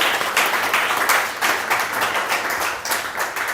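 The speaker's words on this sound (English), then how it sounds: "Give me a round of applause" An audience at a festival talk claps at length after a speaker's performance, a dense, even patter of many hands that rises and falls slightly in loudness, with no voices over it.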